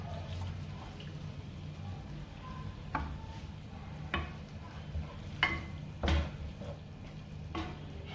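Meat simmers in milk in a pot on the stove for a Nigerian meat pie, giving a low, steady bubbling murmur broken by a few soft clinks and knocks.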